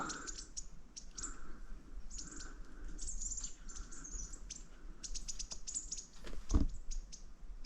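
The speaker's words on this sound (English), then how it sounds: "See, there's all the little fellas over there, the little wrens." Little wrens chirping in scrub on an off-grid farm: repeated high, thin tweets and trills at medium distance over a soft insect hum, with one brief low thump partway through.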